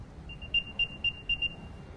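An Apple AirTag playing its locator sound: five short, clear high-pitched beeps in an even rhythm, close by and alone against a quiet room.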